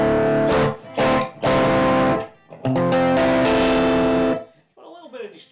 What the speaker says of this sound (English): I can hear the boost straight off.